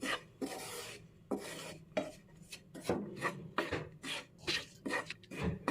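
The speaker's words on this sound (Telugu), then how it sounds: "ఇలా నెయ్యి వేసుకుంటూ ఉండలు కట్టకుండా వేయించుకుంటూ ఉండాలి" Wheat flour roasting in ghee in a pan while being stirred, a rhythmic series of scraping, rasping strokes of a spoon across the pan, close and fairly quiet, with no talk.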